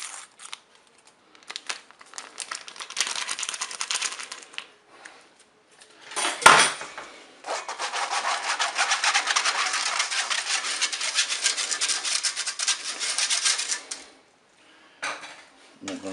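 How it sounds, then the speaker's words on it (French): Flour and baking powder sifted through a sieve into a bowl for a cherry cake, a long run of soft, dry rustling and scraping with a brief clatter of the sieve against the bowl partway through. "je vais poser un tamis sur mon récipient et je vais ajouter la farine et la levure chimique"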